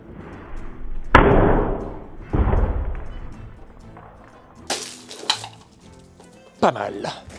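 A sharp Napoleonic sabre slices through a target in two loud, close cuts, each a sudden swish and thud, followed by a few fainter clattering knocks.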